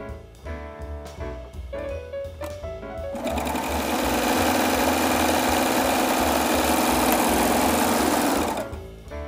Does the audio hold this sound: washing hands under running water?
no